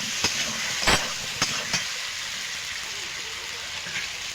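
Potatoes dropped into a sizzling spice paste of ginger and masala in a pan for an aloo macher jhol, giving a soft continuous frying hiss broken by a few sharp crackles and spatula scrapes.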